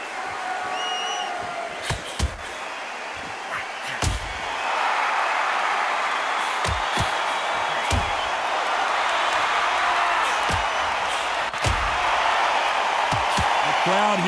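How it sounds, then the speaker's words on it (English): A boxing arena crowd buzzes before a Ward vs Ryan Garcia fight in the game Undisputed, a steady broad murmur swelling midway, punctuated by sharp thuds and slams, with a commentator's voice over it. "The crowd here cannot wait. They've been buzzing all day long"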